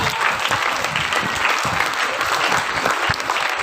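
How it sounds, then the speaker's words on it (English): Steady, dense applause from an audience honoring teachers at a school festival, continuous and fairly loud throughout with no pauses. "So let's give them a big round of applause."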